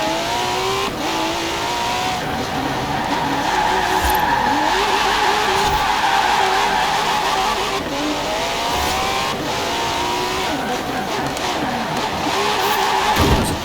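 Car braking hard and skidding on a street race course in Forza Horizon 4 on Xbox One X, engine roaring steadily throughout with tire squeal sweeping through, loud and continuous for the whole stretch.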